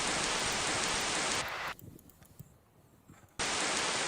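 Steady rain sound effect for a storm in a Godot 3D island game, a dense hiss that drops out abruptly midway, leaving a quieter patter, then returns at full loudness.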